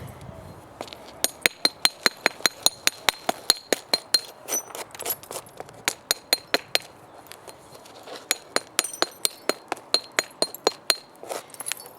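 Sharp stone-on-stone knapping strikes during primary reduction of a cortex-covered core, a long run of crisp, ringing clicks in quick irregular bursts, close and loud, with brief pauses between series.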